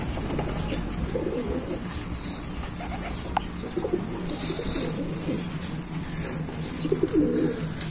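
Racing pigeons coo at the loft during the final lap of a long-distance race to Catbalogan City, with soft repeated throaty calls over a constant background hum.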